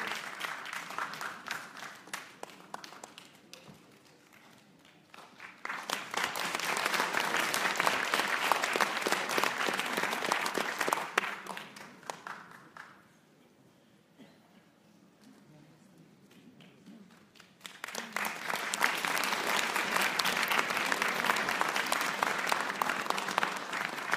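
Audience at a political speech in Gorna Oryahovitsa applauding in two long, dense rounds of clapping, separated by a quieter lull with scattered claps.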